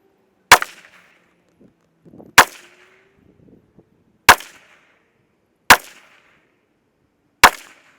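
Five sharp, loud rifle shots from a Ruger SFAR fired at a target, spaced roughly two seconds apart, each with a short ringing decay and quiet handling noises between them.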